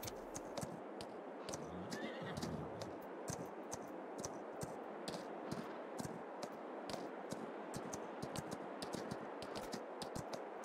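Horse neighing and clip-clop hooves in the farming video game Farming Simulator 22, a steady run of sharp hoof clicks with a brief whinny near the start, moderately quiet throughout.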